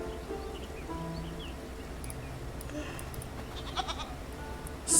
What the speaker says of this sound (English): Sturdy goat shakes its head at you and bleats.